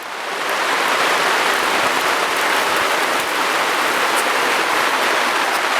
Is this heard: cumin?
no